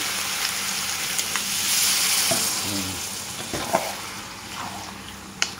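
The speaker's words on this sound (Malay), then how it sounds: "Biar dia mendidih, merenih sekejap." A pot of goat curry with coconut milk bubbles and sizzles steadily up close, with a soft hissing bed and occasional faint pops and clinks.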